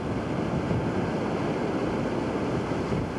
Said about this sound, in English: The wind, well, it's just way more severe today